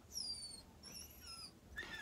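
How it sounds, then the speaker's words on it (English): A dog whimpering nearby, a few high, thin drawn-out whines in quick succession, faint against a quiet indoor room. "You hear someone crying, it's my dog."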